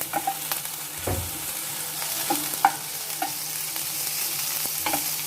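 Chicken curry with curry leaves sautéed in a pan for a tangy Mangalore-style dish, a continuous sizzle with several sharp spatula scrapes and taps throughout.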